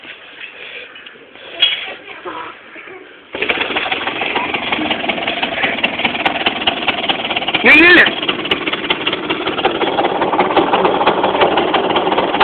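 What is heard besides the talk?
scooter engine idling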